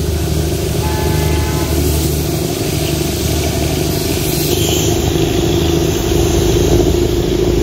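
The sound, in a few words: toy train passing with horn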